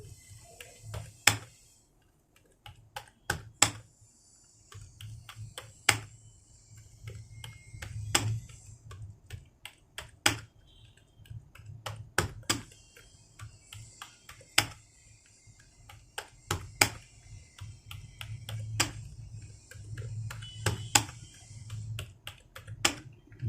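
Hindi text typed on a computer keyboard in Remington Gail and Mangal fonts, giving close, crisp key clicks in irregular bursts with harder strikes standing out, over about twenty seconds with no talking.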